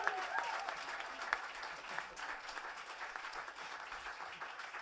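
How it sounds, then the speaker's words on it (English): Audience at a Centre for Irish Music event gives a round of applause for the instructors, sustained dense clapping from a crowd with some voices underneath. "Please give them a huge round of applause."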